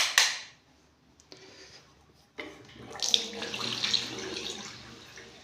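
Water runs from a washroom tap, a faint trickle early on that swells into a steady, louder gushing stream over the last few seconds, with no talking.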